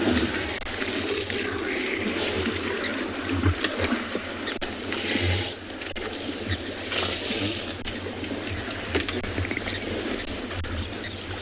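Hippos splashing in water: steady watery splashing and sloshing, continuous and fairly close, with occasional louder splashes and slurping over a constant background wash, at sunset on a safari.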